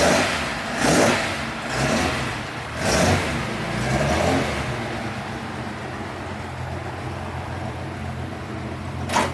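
A Mitsubishi Lancer Evo VI Tommi Makinen Edition engine blips through several sharp revs close by, then settles into a steady idle for the remaining seconds, ending on one more short blip.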